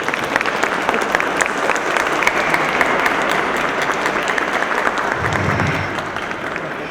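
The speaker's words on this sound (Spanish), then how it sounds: "un aplauso por favor a nuestros expertos" An audience claps steadily for the invited experts at a personal data protection awareness session in a municipal hall, dense applause filling the room throughout with a brief low rumble near the end.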